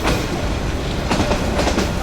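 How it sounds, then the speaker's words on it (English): An old passenger train in Vietnam, leaving Nha Trang, rumbles along the rails with a constant loud roar and a few rhythmic clickety-clack knocks from the wheels toward the end. "I wonder how old this train is."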